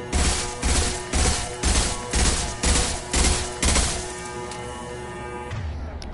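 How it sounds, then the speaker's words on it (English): Gunfire in Mass Effect Legendary Edition comes as a loud, evenly spaced run of about seven heavy bursts, each a sharp blast with a short rumbling tail, before it fades to a quieter wash. "Okay, shoot the thing faster."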